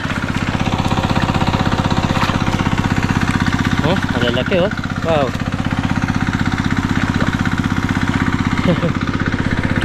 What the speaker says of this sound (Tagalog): Ayan, pinandar na yung makina